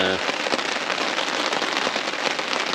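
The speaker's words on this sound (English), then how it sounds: "if this rain subsides a bit" Rain falls steadily on a woodland camp during a solo overnight bushcraft trip, a dense close patter of drops on surfaces that continues evenly throughout.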